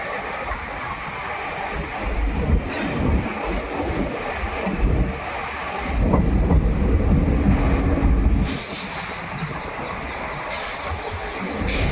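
The Bikaner–Delhi Sarai Rohilla SF Express running, heard from on board as a continuous loud rumble with wind buffeting and rhythmic rattling, swelling briefly in the middle.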